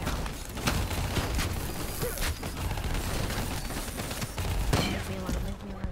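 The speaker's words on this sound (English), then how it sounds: "He's shooting me right now." Gunfire in the video game Call of Duty: Black Ops III, dense overlapping bursts of automatic fire with sharp single shots and crashes, loud and continuous, with faint voices underneath.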